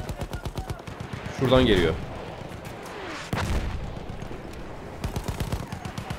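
Battlefield 1 combat at Gallipoli brings rapid machine-gun bursts and rifle fire, loud and continuous, with a heavy blast partway through while someone talks over the gunfire.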